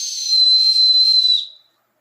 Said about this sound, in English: stranded, they can blow the whistle.